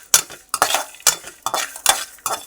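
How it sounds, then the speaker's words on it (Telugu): A utensil scrapes and clinks against a pan in five quick, regular strokes while sesame seeds, peanuts, coriander seeds and cumin dry-roast over low heat, close and clear, with no talk. "నువ్వులు, శనగిత్తులు, ధనియాలు, జీలకర్ర అన్నీ వేయించుకుందామండి"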